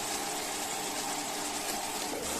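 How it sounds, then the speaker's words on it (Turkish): A washing machine under repair draws water in a steady, even rush of flow that holds at a moderate level without pause for the whole moment, with no voices. "Evet görüldüğü üzere makinemiz suyu alıyor."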